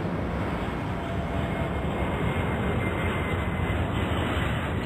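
Jet airliner taking off in the Airport Madness 4 air traffic game, a continuous broad roaring rumble of engines at steady loudness throughout, with no talking over it.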